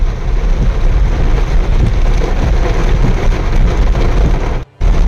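Heavy, steady rain pours down on a flooded town road in a dense continuous roar, broken by a brief near-silent gap just before the end.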